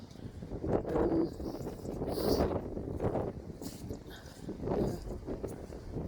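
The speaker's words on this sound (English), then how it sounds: "Oh, it's windy." Gusts of wind buffet the microphone with a low, rumbling roar that swells and fades over several seconds.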